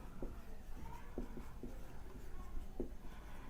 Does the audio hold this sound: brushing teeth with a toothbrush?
no